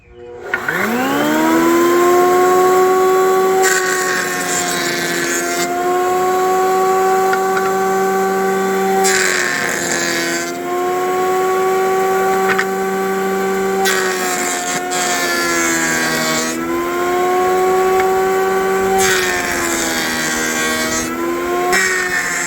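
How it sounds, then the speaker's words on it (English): A power planer shapes a wooden plug in the hull of a 1954 17-foot Chris Craft boat, a loud close whining motor with repeated passes rising and easing every few seconds, alone without talk. "I got to take my time down here going back and forth with the planer, getting that wobble out"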